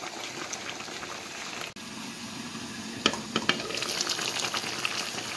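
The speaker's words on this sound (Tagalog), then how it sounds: "antayin na lang natin maluto yung gulay" Mixed vegetables simmering in a pan with pork belly, a soft continuous bubbling and light sizzle with a few sharp clicks of a utensil partway through, close and fairly quiet, with no talk.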